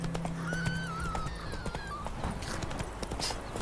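Hoofbeats of Roach, Geralt's horse in The Witcher 3, clop steadily at a gallop close by, with a whinny and other game sounds layered over the rhythm.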